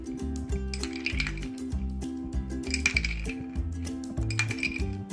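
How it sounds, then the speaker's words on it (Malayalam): Four ice cubes are dropped into a fruit sarbath, giving bursts of bright clinks and knocks in three separate clusters over a steady low musical background. "ഇതാ ഞാൻ 4 ഐസ് ക്യൂബ് ഇട്ടിട്ടുണ്ട്"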